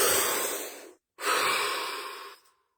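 Two long, loud breaths close to the listener: a deep inhale, a brief pause, then a slow, airy exhale that fades into silence.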